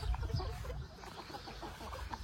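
Chickens and a lone rooster in breeding pens at a poultry farm, giving soft scattered clucks at close range over a low background rumble.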